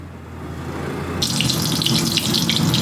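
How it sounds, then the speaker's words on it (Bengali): Starchy cooking water poured off a pot of boiled rice in a home kitchen, a steady splashing gush that starts suddenly partway through after a quiet hum and keeps running. "ফ্যানটা ঝরিয়ে নিই"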